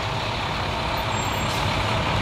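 Oliver Paipoonge Fire and Emergency Services fire truck rolling past in a night Parade of Lights in Thunder Bay, a steady loud broadband rumble and hiss with a brief air-brake release partway through, no talking.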